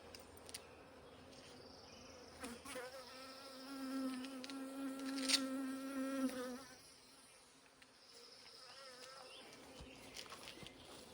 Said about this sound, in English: Oh yeah, these are really mad bees.